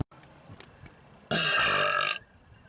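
A single loud, raspy burp lasting almost a second erupts inside a car during a burping contest between two adults, standing out from a few faint sounds before it.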